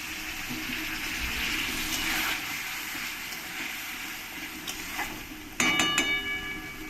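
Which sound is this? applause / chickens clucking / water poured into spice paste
water poured into spice paste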